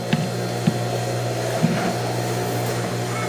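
Industrial straight stitch sewing machine running a test stitch on material, a steady loud motor hum with a few sharp clunks at irregular intervals.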